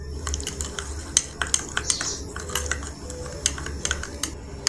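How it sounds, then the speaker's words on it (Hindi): Egg sandwich mixture stirred in a bowl, a steady run of light scraping clicks and clinks repeating at a quick irregular rhythm over a low background hum, close and moderately quiet, with no talking. "अब इनको अच्छे से मिक्स कर लेंगे।"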